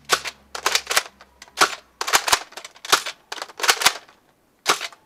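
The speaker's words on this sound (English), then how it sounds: "firing demo in 3, 2," Buzz Bee Walking Dead Abraham's M16 Nerf blaster firing foam darts, a loud close series of sharp snapping shots in quick bursts with short gaps, alone without talking.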